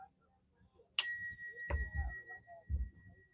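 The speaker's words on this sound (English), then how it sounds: "We're gonna ring the sound bell. Or the sound bowl" A sound bowl is struck once and rings with a clear, sustained metallic tone that hangs steadily for over two seconds, while a few low soft thumps or handling noises sound beneath it.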